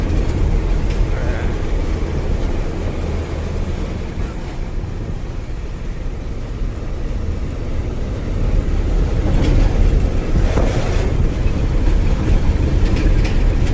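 A loaded 14-wheel truck grinds along a ghat road toward Mangaluru, its engine and road noise a continuous, loud low rumble heard from inside the cab, swelling slightly near the end.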